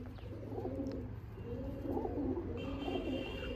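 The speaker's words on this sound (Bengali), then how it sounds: "তো সুরাজ আজকে পায়রাটা শখ করাবে, পাঞ্জাটা তোমাদের দেখিয়ে দিই।" A Madrasi pigeon coos softly and repeatedly in low, throaty phrases, fairly faint against a quiet background hum.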